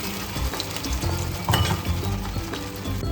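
Tomato puree going into hot oil with cumin seeds for paneer tikka masala, sizzling steadily and loudly up close with faint stirring and clinks of a pan, no talk over it.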